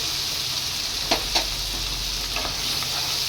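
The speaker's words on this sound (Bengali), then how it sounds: "এগুলোকে ভালো করে আমি ভেজে নেবো আগে।" Garlic paste and onion paste fry in a pan, a steady bright sizzle punctuated by a couple of quick spatula scrapes and taps, close and without any voices.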